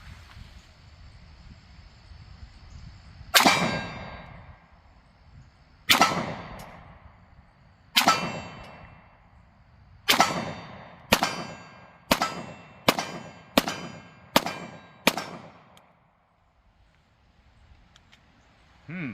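A Springfield XDM Elite OSP 10mm pistol with a 3.8-inch barrel fires outdoors at a target about 40 feet away: ten sharp, loud reports, widely spaced at first, then in a quicker string.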